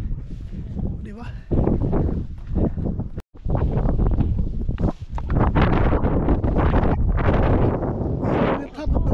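Loud gusts of strong wind roar across an exposed mountain peak, the country's second-highest, buffeting the mic almost continuously with a brief drop near the start.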